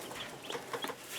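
Young spring chicks peeping and chirping inside a homemade plastic barrel brooder, a few soft, quick calls scattered over a quiet background, fairly faint and close.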